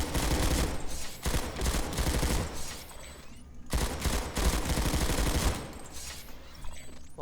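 Rapid automatic gunfire from a Planetside 2 first-person shooter fills the clip in two dense bursts of fire separated by a short pause, loud and close, with no voices.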